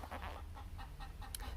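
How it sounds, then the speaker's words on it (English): Chickens cluck in a run of short bursts, one voice rising into a sharper squawk near the end, heard moderately near over a steady low rumble. "Can you hear the chickens? Something scared them."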